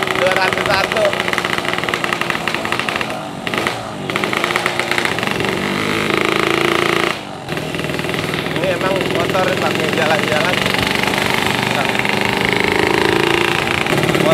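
A drag motorcycle engine runs continuously and loudly close by, a raspy, buzzing drone with throttle changes, under someone talking.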